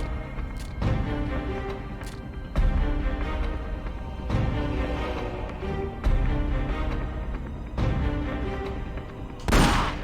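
Gunfire from the video game Metal Gear Solid Portable Ops: several sharp, echoing shots spaced a few seconds apart over a low, rumbling background, with no speech.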